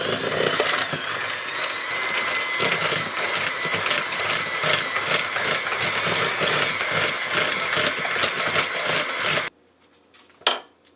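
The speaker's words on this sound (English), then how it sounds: "I'm going to take my hand mixer and mix this up until it's good and creamy" An electric hand mixer creams butter, white sugar and brown sugar in a bowl, a loud, close, steady whir with the beaters clattering against the bowl, then it stops abruptly and a few faint knocks follow.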